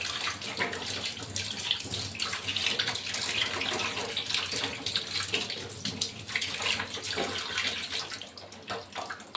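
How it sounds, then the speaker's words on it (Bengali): Tap water runs steadily over raw turmeric being washed, a close, continuous splashing with small bursts where the pieces are rubbed under the stream, no speech. "এখন কাঁচা হলুদটা ধুয়ে নিব"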